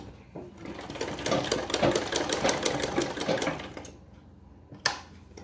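A sewing machine stitches the nefa belt of a two-kali salwar in a steady, fast whirring run of close needle strokes for several seconds, then stops, followed by a single sharp clack as the mechanism is handled.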